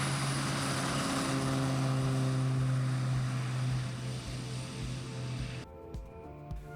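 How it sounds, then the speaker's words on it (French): A 550-horsepower turbine-powered turboprop skydiving plane with a short-takeoff capability, its engine droning loud and steady with a strong low hum, then dropping in level and cutting to quieter rumbling near the end. "Propulsé par une turbine développant 550 chevaux, seulement 250 mètres de piste lui suffisent pour décoller"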